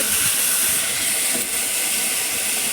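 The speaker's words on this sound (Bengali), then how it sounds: "এই দেখুন জল ঢেলে মশলাটা কষা হচ্ছে" Wet spice paste sizzling in a karai after water is poured in, while cooking meat curry with ginger-garlic paste: a steady, loud, hissing steam sizzle that fills the whole clip without pause.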